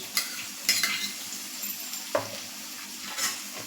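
Chopped capsicum drops into a pan of pasta and is stirred while frying, giving a soft steady sizzle with a few scraping stirs and light clatters of the spoon against the pan, close up and fairly quiet.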